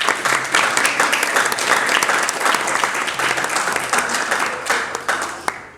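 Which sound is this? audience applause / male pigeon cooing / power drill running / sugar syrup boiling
audience applause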